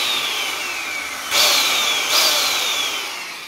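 Skil 15 amp 7 1/4 inch brushed circular saw spinning up to speed, a loud close whining motor with two sharp surges in pitch and volume, running alone without talk.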